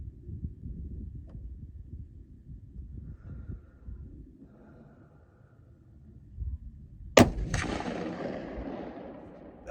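A single loud rifle shot from a CVA Cascade firing 6.5 PRC reloads rings out late and close, then decays over a low, steady rumble of wind.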